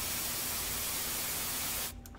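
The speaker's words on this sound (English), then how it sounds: "White noise." Bright, even white noise from the Zorin OS 16 Pro ambient sound feature fills the clip at a constant level, like a spray or static, then stops suddenly just before the end.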